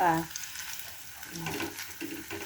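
Maling luncheon meat slices frying in a pan as they are flipped, giving a soft, patchy sizzle with scraping stirs, under brief instructional talk.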